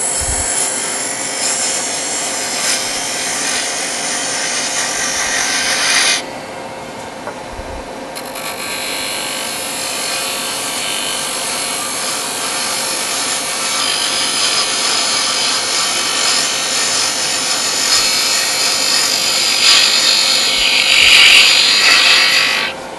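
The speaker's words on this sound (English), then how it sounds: "That's why at the end I'm going to take very fine cuts." Fine finishing cuts on a wooden sphere on a lathe, a steady close scraping and rubbing hiss that drops off briefly partway through, then resumes and builds toward the end, with no talk.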